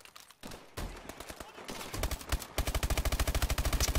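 Rapid automatic gunfire in Call of Duty Advanced Warfare, starting with scattered shots and building into a fast, steady burst of loud, evenly spaced rounds near the listener.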